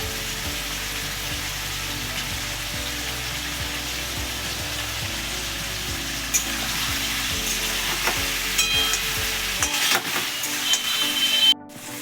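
Raw jackfruit fries in oil with Kashmiri chili powder added, giving a steady bright sizzle with repeated scraping stirs of a utensil in the pan, close and continuous, then a sudden cut near the end.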